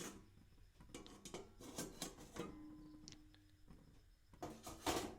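A metal lid and pan clatter in a kitchen while eggplant dry-fries without oil, with a few sharp clinks and knocks spread over the clip, quiet and close, plus a brief low hum in the middle.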